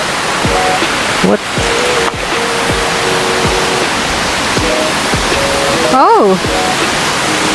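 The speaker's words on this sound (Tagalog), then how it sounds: "Ito na yung falls." Margaret Falls, a waterfall in British Columbia, gives a dense steady roar of falling water close by, with short voice exclamations and whistly tones over it.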